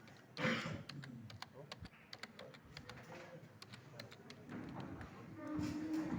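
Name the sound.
typing a domain name on a computer keyboard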